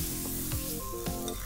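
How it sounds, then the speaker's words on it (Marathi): Hot tempering poured into mashed red pumpkin sizzles loudly and continuously, with a few close scraping stirs of a spoon in the pan over the hiss. "आता फोडणी आपण भोपळ्याच्या आपण स्मॅश केलेल्या मिश्रणामध्ये घालणार आहोत"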